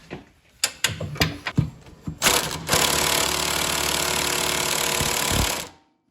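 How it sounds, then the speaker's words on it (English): An impact wrench with an extension and 17 mm socket removes a nut on a Kawasaki KRX 1000 mount: a few short hammering bursts, then a loud, steady rattling run of several seconds that stops abruptly. "we're gonna go ahead and blast it off with our impact wrench"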